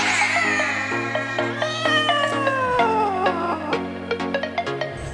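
A cat meows several times in close succession, with drawn-out sliding cries, against steady background music, the cat racing a raccoon and a dachshund through a mirror maze.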